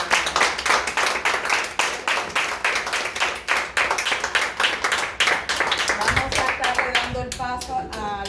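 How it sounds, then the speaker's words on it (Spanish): A church congregation claps steadily in a fast, even rhythm for several seconds, loud and close, with the clapping thinning out near the end as other sounds come in. "Bríndele una ofrenda de aplauso."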